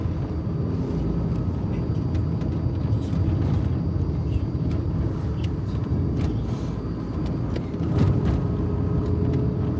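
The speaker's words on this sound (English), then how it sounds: "There's a car coming here." A car approaches along a road near an intersection, a steady low engine and tyre rumble that holds for the whole stretch and swells slightly toward the end.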